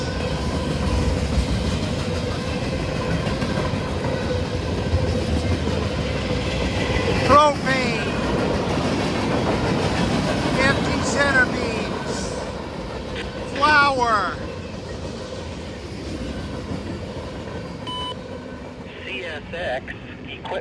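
Empty center beam freight cars and other railcars of a long CSX-line freight train roll past up close, a steady loud rumble with clanking wheel and coupler noise and brief squeals throughout.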